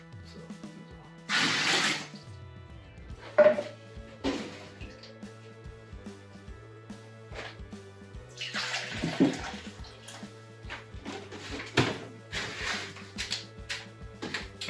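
Spring water poured into a home brew beer kit in several short bursts, bright splashing pours separated by quiet pauses, close by, with no talking.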